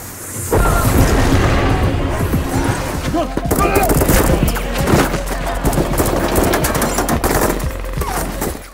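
Dense gunfire rattles through a movie shootout between police and cartel members around an empty building, loud continuous volleys of sharp shots and bursts with booming impacts filling the whole stretch.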